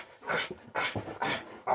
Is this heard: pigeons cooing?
no